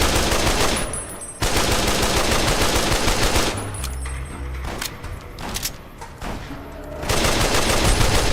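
Automatic rifle fire in the video game Fallout: New Vegas, loud sustained bursts of rapid shots broken by short pauses, close and harsh throughout.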